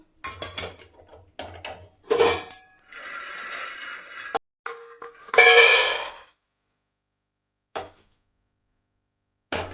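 Roasted ingredients for a sesame spice powder scraped and tipped from a pan into a bowl, with a string of clinks and scrapes of metal cookware and spoon, a louder rattling pour in the middle, then a couple of isolated taps.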